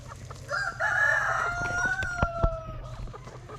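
Chickens cluck and a rooster crows nearby, with a few sharp sounds mixed in over a low background hum.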